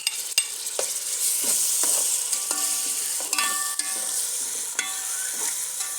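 Tomatoes fry in masala with a soft steady sizzle while a spoon stirs and scrapes the pan, giving scattered close clinks and scrapes throughout.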